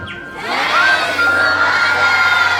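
A crowd at a priest's ordination celebration lets out a loud, sustained collective shout and cheer, voices rising together after a brief quiet start and holding strong to the end.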